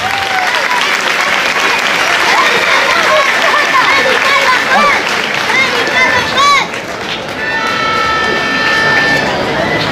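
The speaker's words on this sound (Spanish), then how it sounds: "un aplauso grande para los dos." Loud, sustained crowd applause fills a tribute to footballer Dani Carvajal in Leganés, steady dense clapping with voices talking and calling over it throughout.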